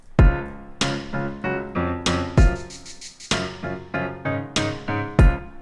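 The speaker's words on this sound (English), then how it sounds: "Adding in the piano" Piano chords in a pop verse arrangement, struck in a steady repeating pattern over a punchy kick drum, clear and upfront with no voices.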